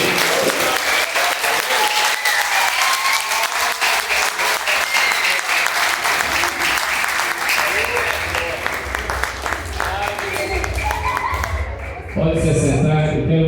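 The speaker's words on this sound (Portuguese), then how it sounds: "levante suas mãos bem alto para os céus e bata bem forte para Ele" A church congregation at a family worship service claps hands loudly and steadily, a dense sustained burst of applause that fills the room, with voices and music rising underneath toward the end.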